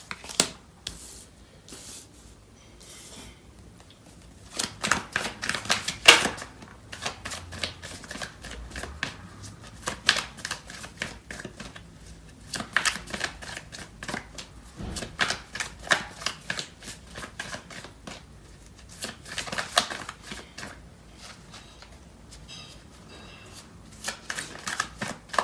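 A deck of tarot cards being shuffled, with bursts of rapid riffling flutters and soft slaps coming in uneven clusters, close and fairly quiet, with short pauses between them.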